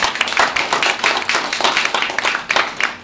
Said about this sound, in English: Let's have a big round of applause again for our great speakers.